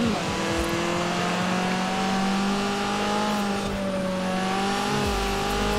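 Volkswagen Golf sliding in the racing game Forza Horizon 4: a continuous loud engine drone with shifting pitch and hints of tire squeal throughout, steady and dense.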